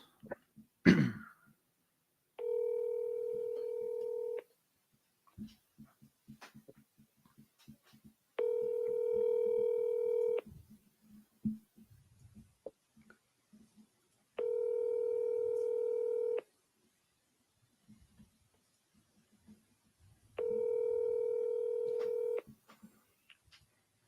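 Touch-tone dialing on a mobile phone during a call to a realty agent: four separate steady tone bursts, each about two seconds long, spaced evenly apart, with a brief throat-clear at the start and quiet gaps between.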